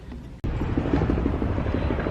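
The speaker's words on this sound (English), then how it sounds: "I think there's a helicopter there or something" Helicopter flying overhead in a city neighborhood, a steady low rhythmic rotor thumping that continues throughout, fairly loud, after a very brief dropout at the start.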